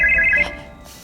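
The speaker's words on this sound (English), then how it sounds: "Sidney gives Tatum a phone call" Phone ringtone of an incoming call, a loud electronic warbling tone heard close for about half a second before it cuts off into quiet background.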